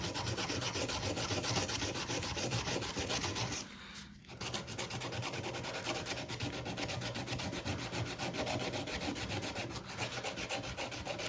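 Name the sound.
hand sanding wood with sandpaper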